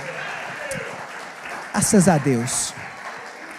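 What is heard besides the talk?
congregation applauding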